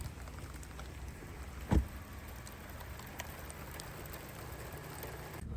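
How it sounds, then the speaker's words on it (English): Rain patters steadily on a 2025 Mercedes-Benz C300 4Matic sedan, a soft continuous hiss of drops heard from inside the car, with one brief low thump partway through. "it is going to be a rainy test drive"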